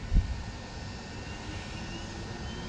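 A DarwinFPV BabyApe2 FPV drone flying on a 6S battery, a steady high-pitched motor and propeller whine with a continuous airy hiss, fairly close and even, with a brief low thump at the start.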